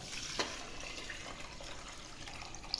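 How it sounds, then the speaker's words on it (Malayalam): Water is poured into rice in a cooking pot, making a soft, steady trickle and splash with a couple of tiny drip-like taps, faint and continuous throughout. "ഉപ്പിട്ട് കൊടുത്ത് ഒന്ന് ഇളക്കി വെള്ളം ഒഴിച്ച് ഒന്ന് ഇളക്കിയിട്ട് നമുക്ക് കണക്കായ വെള്ളം വെക്കാം"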